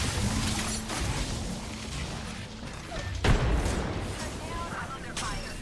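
Gunfire in a video game battle, a dense, noisy rumble of shots and blasts with one sharp loud bang in the middle, continuous and close throughout.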